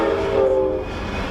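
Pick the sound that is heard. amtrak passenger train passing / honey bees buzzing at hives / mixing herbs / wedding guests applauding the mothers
amtrak passenger train passing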